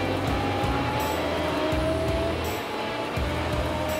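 A Porsche race car passing on a circuit during a race, engine note rising and falling as it goes by loud and close, with other cars' engines droning steadily underneath.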